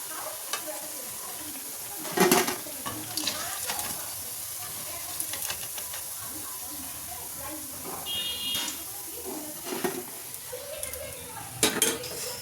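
Lentil fritters fry in hot oil in a pan, a continuous sizzle with occasional utensil clinks and scraping, while someone talks nearby.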